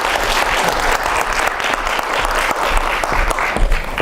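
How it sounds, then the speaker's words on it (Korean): Audience applause for a Korea University English department professor at a lecture on artificial intelligence, dense steady clapping filling the hall, loud and continuous with no voices. "남호석 교수님께 큰 박수로"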